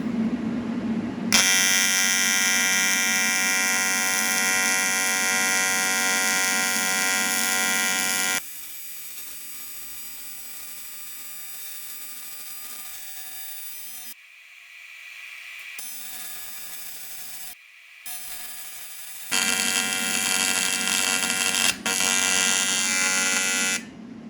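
Loud, steady electric welding buzz with a harsh, even hum on compound turbo kit parts, cutting out and starting again several times in separate stretches.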